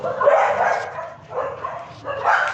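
Dogs bark in short bursts outside a beach house in Dumaguete, Philippines at night, three yapping volleys at moderate distance, with faint voices nearby.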